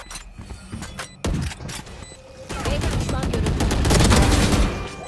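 Gunfire in a shooter video game: rapid bursts of shots that swell into dense, sustained firing, with a player's voice talking over it.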